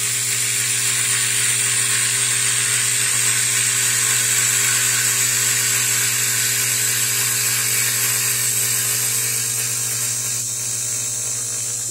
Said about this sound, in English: now I'm going to turn this peg